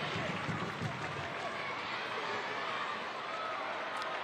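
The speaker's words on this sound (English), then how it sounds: "Crowd trying to encourage the Rowdies here for the final 10-ish minutes of the opening half." Stadium crowd at a Tampa Bay Rowdies soccer match against Pittsburgh Riverhounds SC, a steady, distant wash of cheering and noise heard under a commentator's voice.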